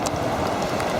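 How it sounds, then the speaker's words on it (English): Rain falls outdoors as a steady dense hiss with scattered droplet patter, close and even throughout the short stretch. "Still raining."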